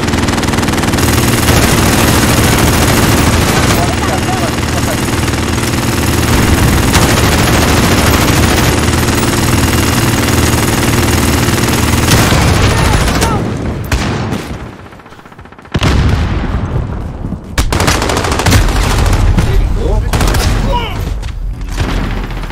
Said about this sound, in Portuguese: ficou segurando os tiros da sentinela